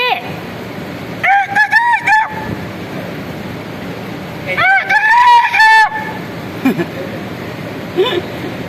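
A rooster crows twice at close range, each call loud and drawn out with a wavering, strained tone, separated by a few seconds of quieter outdoor background.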